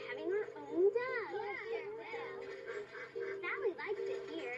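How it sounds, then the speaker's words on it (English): A pet duck living at a park pond quacks repeatedly in a lively, uneven rhythm, fairly close, under and between the chatter of children's voices. "I thought there was a duck in there."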